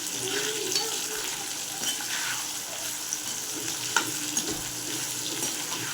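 Eggplant pieces and curry leaves fry in oil with a steady, close crackling sizzle and occasional stirring scrapes, heard alone throughout.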